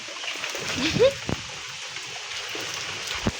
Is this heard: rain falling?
yes